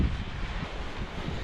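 Gusty wind rumbles steadily across a microphone at a high mountain pass reached by bicycle, a low, close buffeting roar with no voices.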